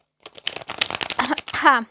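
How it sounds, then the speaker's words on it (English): Cards shuffled by hand for a Scorpio tarot reading, a close run of quick riffling flutters building to a louder burst at the end, heard alone. "let's shuffle the cards and ask what is coming up here for Scorpio"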